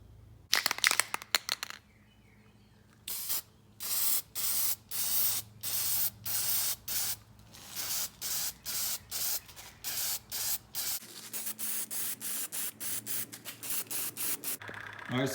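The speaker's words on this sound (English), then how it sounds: "So now I'm going to clean it off with some carburetor cleaner and then shoot a coat of paint on it." An aerosol can sprays carburetor cleaner and paint onto a mower fuel tank in a long series of short, sharp hissing bursts with brief pauses between, close and alone.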